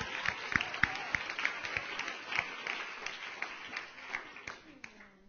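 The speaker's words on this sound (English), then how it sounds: "Round of applause for Jess." Scattered clapping from a small audience at a wealth success panel, a steady patter of individual claps for a panelist, with some talk mixed underneath.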